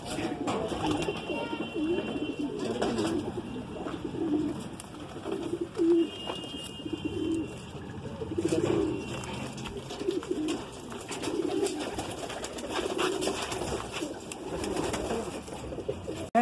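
Madrasi pigeons coo softly in a loft, with repeated low cooing calls near and far over a hum of background noise and occasional thumps.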